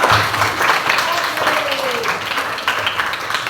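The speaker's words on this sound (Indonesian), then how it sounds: "tepuk tangan semuanya" A class of Indonesian students applauds after a correct answer during a group lesson, a steady, moderately loud patter of many clapping hands mixed with voices speaking throughout.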